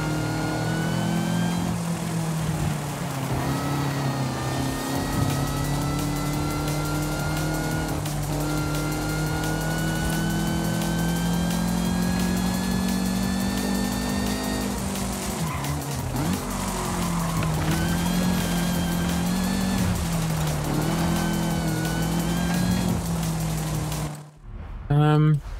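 Supercharged Lancia 037 rally car in Forza Horizon 5, its engine note droning steadily with rising and falling pitch across shifts, tires squealing at times, with a player talking over it throughout.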